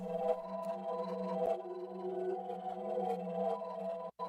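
A hip-hop beat made in Cakewalk by Bandlab plays through a dumpster fire distortion plugin, its sustained droning tones gritty with artifacts and a few sharp clicks, steady and moderately loud throughout.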